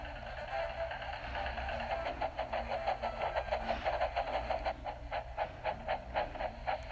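Thomas the steam engine puffs along in rhythmic, evenly spaced chuffs with a hissing undertone and a low rumble beneath, steady and moderately close for several seconds.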